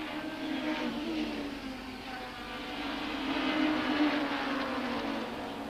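A Castrol Toyota Camry Super Touring car racing at Kyalami in 1995, its engine heard from inside the cockpit as a loud, steady droning roar that holds at high revs throughout.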